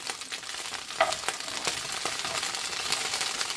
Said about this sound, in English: add my 500 grams of tomatoes into that and let that cook through